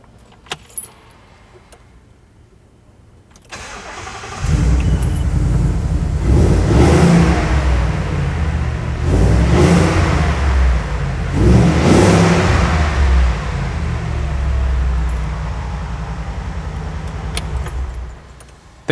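A 1968 Ford Bronco engine cranks and catches, then settles into a loud, close idle with several rising revs and falls through a mild exhaust, with small rattling jangles before the start.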